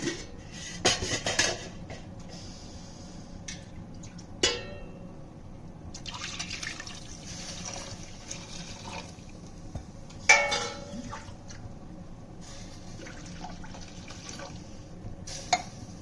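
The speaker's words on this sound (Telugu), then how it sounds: "ఇప్పుడు ముందు వాటర్ పోసుకుందాం." Water trickles and splashes into a pot of cooked lentils, with soft clinks of a utensil against metal at a few moments, quiet and close.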